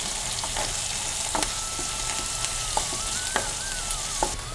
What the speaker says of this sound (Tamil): இதுக்கு கடுகு, சோம்பு, பெரிய வெங்காயம் பொடியாக கட் பண்ணது. வெங்காயம் நல்லா கொஞ்சம் வதங்கட்டும்.